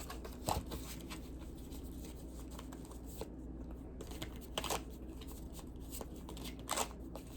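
Cards are riffled and shuffled in quiet bursts, soft papery flutters recurring every second or two against a low steady background hum.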